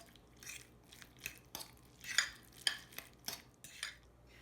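Egg filling for tamago sando being mixed in a bowl, with a series of light clinks and scrapes of utensil against the bowl in an irregular rhythm, close and fairly quiet.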